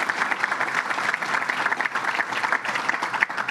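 Audience applause fills a room at a fire department announcement, a dense steady patter of many hands clapping close by for the full few seconds, with no talking over it.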